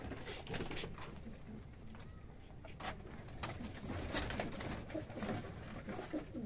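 Kept pigeons coo and flutter nearby in a steady outdoor scene, with soft rustling and intermittent wing movement throughout.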